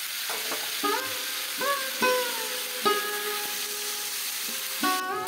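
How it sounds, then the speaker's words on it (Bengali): Vegetables for fried rice fry in a kadai with a constant close sizzle, punctuated by several ringing metallic scrapes and clanks of a spatula against the pan at uneven intervals. "আর একটা কড়াই বসিয়েছি, ওখানে ফ্রাইড রাইসের সবজিগুলো একে একে ভেজে নিচ্ছি"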